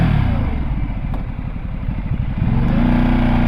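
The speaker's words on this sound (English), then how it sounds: "It's a Ducati" A Ducati motorcycle engine rumbles loudly and close, with a throbbing low pulse that dips slightly mid-way and swells again, without any talk.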